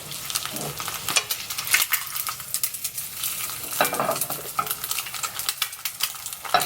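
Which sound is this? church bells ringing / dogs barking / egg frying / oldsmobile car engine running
egg frying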